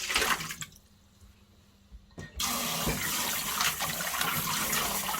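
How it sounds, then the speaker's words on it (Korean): Dried cheonggak seaweed is rinsed under running water from a tap, a steady loud splashing stream that starts after a brief quiet stretch with a few soft knocks. "청각을 씻어 볼게요"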